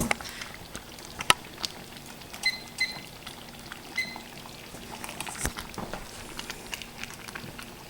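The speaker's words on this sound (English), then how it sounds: "Just let it simmer for a little bit." Meatballs simmering in tomato spaghetti sauce in a pot on low heat, giving soft, irregular bubbling pops and spatters at close range, fairly quiet and steady with no talking.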